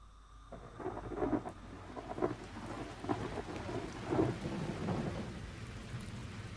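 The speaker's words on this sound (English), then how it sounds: "The rain fell. Hour after hour it rained. Day after day it rained." Steady rain with rolling thunder, the rumbles swelling and fading several times over a continuous wash of rainfall, fairly close and moderately loud, no voices.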